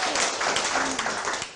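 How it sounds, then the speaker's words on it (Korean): Brief audience applause rewards a correct answer at a lecturer speaking contest, a dense, moderately loud patter of many hands with a faint voice underneath. "박수 한번 주세요."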